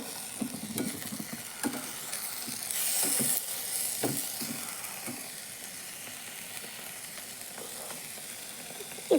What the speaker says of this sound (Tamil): சேர்த்து நல்லா கலந்து கொடுத்து வதக்கிக்கலாம்